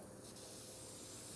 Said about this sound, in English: So you can see the pressure of this spray